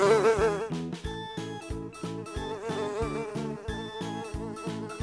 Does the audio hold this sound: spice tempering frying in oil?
no